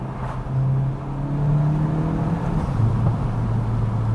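A Volkswagen MK8 GTI with an AWE exhaust revs up to about 4,000 RPM on a downshift in sport manual mode, a loud, steady engine drone that rises and dips close by, with no talking.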